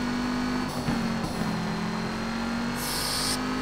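A 125 hp car engine in the RDS drift game holds a steady high drone at full throttle with little change in pitch, plus brief tire or gear sounds, loud and with no talking.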